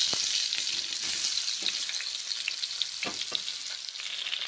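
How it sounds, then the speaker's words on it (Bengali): Mushrooms frying in a pan over low heat for a mixed vegetable dish, a steady close sizzle with scattered crackles and soft stirring scrapes throughout. "মাশরুমগুলো ভেজে নিচ্ছি 2 মিনিট।"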